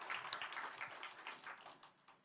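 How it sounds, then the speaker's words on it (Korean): A church congregation at a Sunday service breaks into brief, scattered applause, a quiet patter of claps from a distance that thins out and fades within a couple of seconds. "우리 박수 한번 합시다"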